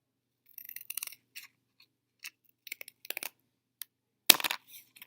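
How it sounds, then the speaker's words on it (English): Scissors cutting the edges off a paper triangle shape along a drawn black line: a few quiet, crisp snips in short clusters separated by silence, with one sharper, louder snip near the end. "I'm going to take and cut off the edges where I had the black line."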